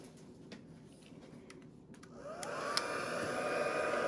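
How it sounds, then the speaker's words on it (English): An embossing heat tool, used over a silicone mat, switches on and blows steadily on high speed with a rising whir, preceded by a few light taps and clicks, close and moderately loud. "Now your heat tool has two different speeds. One is high, this is on the high side"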